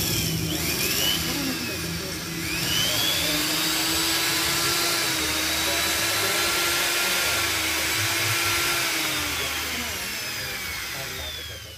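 A Hasston Prohex 3150-001 electric hand grinder, test-run after new carbon brushes and before its large helical gear is replaced, whines loudly and continuously at high speed with a brief dip in pitch early on.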